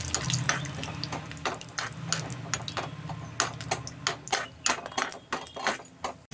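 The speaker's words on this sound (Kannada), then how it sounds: "ಎಣ್ಣೆ ಬಿಸಿಯಾಗಿದೆ. ಮೊದಲಿಗೆ ನಾನು ಗೋಡಂಬಿ ಹಾಕ್ಕೊಳ್ತಾ ಇದ್ದೀನಿ. ಹಾಕೊಂಡು ಸ್ವಲ್ಪ ಫ್ರೈ ಮಾಡ್ಕೊಳ್ತಾ ಇದ್ದೀನಿ." Cashews fry in hot oil in a pan for a sweet vermicelli pudding, producing a busy run of sharp crackles and pops over a continuous hiss, fairly loud and close with no talking.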